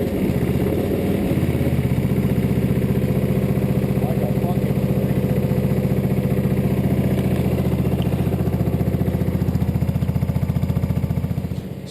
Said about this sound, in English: The tractor's all back together, and we're going to fire it up.